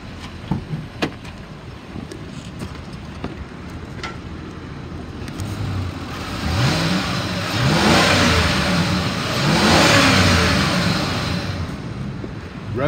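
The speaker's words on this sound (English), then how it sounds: "I'm gonna rev it up so you can hear it" A 2013 Ford E-250 cargo van's engine idles, then revs up twice in long swelling pulls and falls back, loud and steady with no talking.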